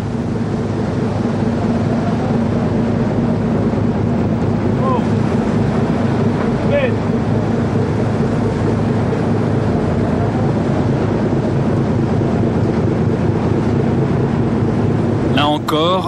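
Icy Antarctic wind blasts across the deck of the fishing trawler Kerguelen de Trémarec, a loud, steady roar of gusts and engine rumble with sea noise throughout.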